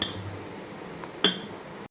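A metal dosa griddle set down on a home kitchen stove, a brief clink and clatter standing out against quiet background hum.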